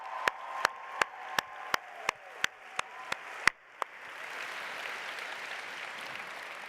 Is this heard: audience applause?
yes